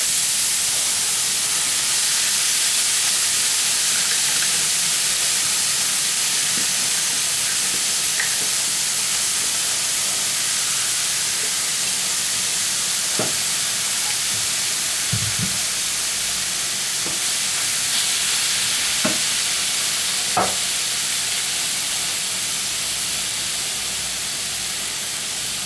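Minced meat and onion fry in a pot, a constant bright sizzling hiss running throughout with occasional faint clinks and stirring knocks, no voices.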